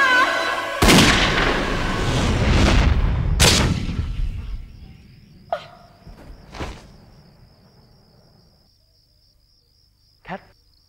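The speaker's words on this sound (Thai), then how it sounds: "แกยิงแคททำไมอ่ะ" Gunshots in a Thai TV drama scene: two or three loud, booming shots ring out close, followed by a few sharper, fainter cracks and clicks over a quiet outdoor background with crickets.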